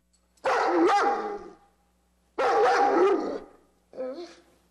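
A dog barks territorially in three separate bursts, two long loud volleys of rapid barks and a shorter final one, close by with quiet gaps between.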